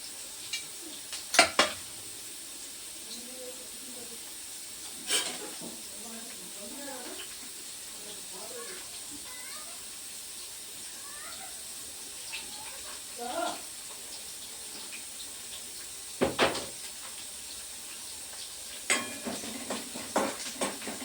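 Onions fry in oil with cumin in a pan for bhindi sabzi, giving a steady sizzle broken by occasional spoon clanks and stirring scrapes, while someone talks at times.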